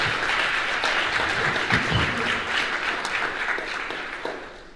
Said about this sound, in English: Give him a big round of applause also.